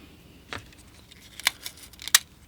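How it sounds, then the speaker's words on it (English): Magic tape being pulled from its roll to hold watercolor paper down, heard as three brief, quiet ripping bursts spaced about a second apart in an otherwise hushed room. "I'm just using some magic tape"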